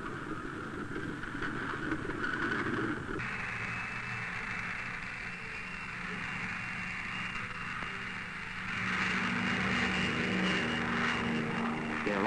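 A P-38 propeller plane specially equipped for cloud seeding with dry ice pellets takes off: a steady droning engine roar, fairly distant and even, swelling slightly louder toward the end.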